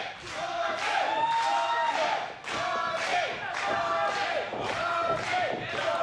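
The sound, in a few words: wrestling crowd cheering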